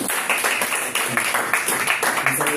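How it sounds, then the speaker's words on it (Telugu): A church congregation at a Sunday prayer service in Doha, Qatar, clapping their hands in praise. The claps are steady, rhythmic and close, with a dense crowd sound and no pauses. "ఒకసారి అందరూ చప్పట్లు కొట్టి దేవుని స్తుతిద్దామండి"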